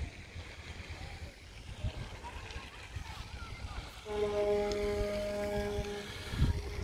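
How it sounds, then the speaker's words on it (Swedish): A ship's horn sounds from a distance in a Swedish harbour town, a steady multi-toned blast of about two and a half seconds over wind and outdoor background noise. "Någon som tuta, en båt kanske."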